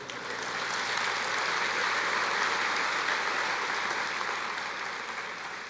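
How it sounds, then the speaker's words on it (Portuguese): Congregation applauding during a church seminar on the Apocalypse, a broad, even wash of clapping that holds steady, then eases slightly toward the end, with no talk over it. "Você pode aplaudir o Senhor?"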